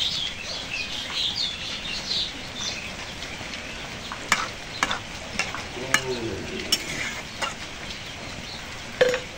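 Fish frying in a pan with water added, sizzling steadily close up while a spoon stirs and clatters in sharp scrapes and knocks, with a few faint bird chirps in the background.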